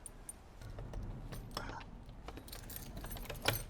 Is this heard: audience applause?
no